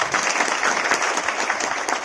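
A crowd claps enthusiastically, a dense, steady burst of applause from many hands throughout.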